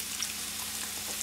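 Sliced peppers and onions frying in a pan, a steady dense hiss of sizzling oil with no breaks, close and even in loudness throughout.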